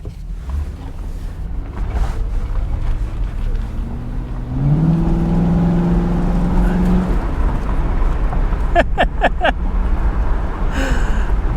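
A 2009 Ford Crown Victoria police car with 62K miles running, its engine droning steadily up close with rising revs as it pulls away, plus some rattles and clicks near the end.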